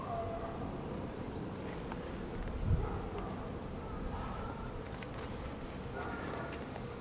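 Honeybees hum steadily during a beehive inspection, a dense low drone close by with a soft bump partway through and no talking.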